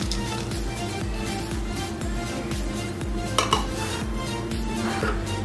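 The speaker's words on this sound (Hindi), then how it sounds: "अब हमारा घी गरम हो गया है, उसके अंदर हम डालेंगे बादाम" Almonds, cashews and other nuts stirred in hot ghee for date laddu, giving a steady sizzle with repeated rhythmic scraping strokes of a spoon against the pan, close and even throughout.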